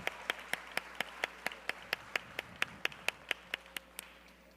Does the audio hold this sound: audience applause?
yes